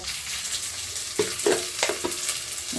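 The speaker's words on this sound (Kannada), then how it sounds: "ಹಸಿ ಹೋಗೋ ಮಟ್ಟಿಗೆ ಫ್ರೈ ಮಾಡಬೇಕು" Lentils fry with browned onion, garlic and turmeric in a pan, giving a close, steady sizzle broken by several scraping stirs of a spoon near the middle, with no one talking.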